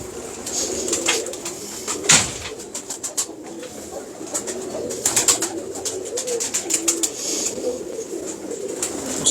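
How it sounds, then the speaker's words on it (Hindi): Pigeons in Ustad Habeeb Mughal's loft coo and flutter close by, soft repeated coos mixing with scattered wing flaps and rustling throughout. "उस्ताद हबीब मुगल साहब के कबूतर आपको दिखा रहे हैं"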